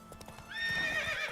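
Horse hooves clip-clop steadily in The Witcher 3, then the horse lets out a loud, drawn-out whinny that rises and wavers over the hoofbeats; no one speaks.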